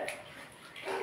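Water splashes into a pan of Bengali koi fish curry with potatoes and chopped coriander: a brief, close pour with a soft gurgle.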